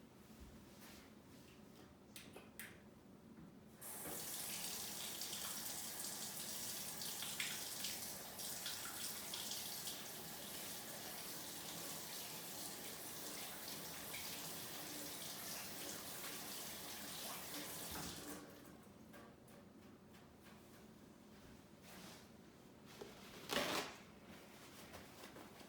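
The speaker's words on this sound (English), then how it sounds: "So now I'm going to go wash my hands again because I had just touched raw meat." Tap water runs steadily into a sink for about fourteen seconds as hands are washed after touching raw chicken in a home kitchen, close and moderately loud, with faint handling noises before and after.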